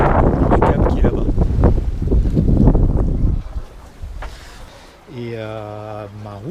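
Wind gusts buffet the microphone aboard a sailboat sailing solo at sea in the Atlantic off the Azores, rushing loudly before easing. Someone talks over part of it, and a short electronic tone sounds at the end.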